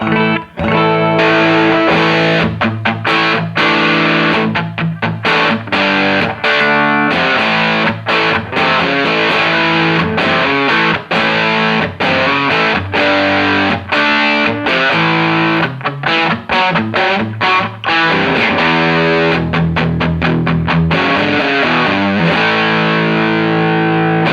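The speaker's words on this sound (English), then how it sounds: "want to hear what just the distortion on the pedal sounds like." Heavily distorted electric guitar through a Bixonic Expandora distortion pedal, gain at maximum, plays chugging chords and riffs with sharp stops, loud and saturated, alone without any talking.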